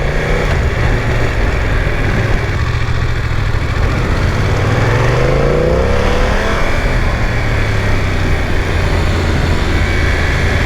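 A BMW F900 XR 900cc twin motorcycle accelerating, loud and close, its engine note rising in pitch through a sweep of revs over constant wind rush, no talk.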